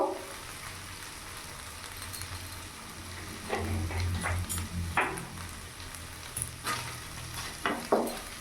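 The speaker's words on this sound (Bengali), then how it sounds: "ভালো করে মিশিয়ে নেবো নাড়াচাড়া করে।" Egg bhujiya stirred in a pan, with soft scraping strokes of a spatula and a faint sizzle under a steady low hum, the scrapes coming in brief clusters toward the end.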